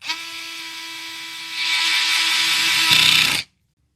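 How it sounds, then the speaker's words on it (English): A screwdriver with a T8 Torx bit drives a screw into a pistol backstrap, giving a steady high motor whine that rises in pitch midway and stops abruptly after about three and a half seconds. "take my screwdriver with the T8 Torx bit and screw it back in"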